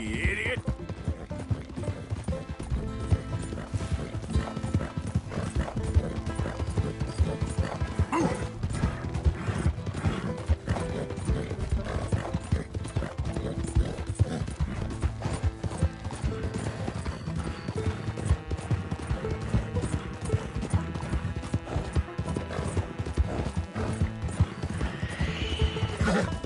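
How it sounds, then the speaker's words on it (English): A donkey's hooves clip-clop steadily and loudly close by in Red Dead Redemption 2, with braying, whinny-like calls mixed in over a dense, continuous game soundscape throughout. "It's just a donkey"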